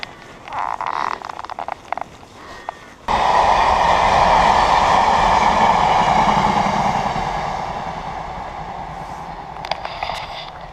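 A train rumbles past at close range beside a walking trail, a loud sustained roar with rattling and squealing that swells suddenly, holds, then slowly fades.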